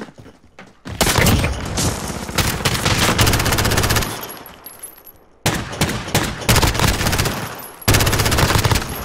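Automatic gunfire in Call of Duty Modern Warfare comes as long, loud rapid bursts of shots with brief gaps between them, close and dominant, and no talk over it.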